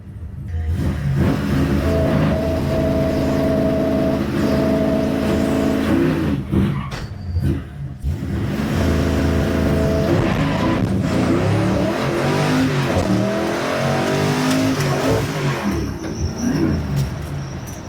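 A Bare Metal 55 drag car at Big Sky Race Week roars loudly through a burnout, engine held at high revs with tire squeal, dropping briefly before surging again, close and dominating with no speech.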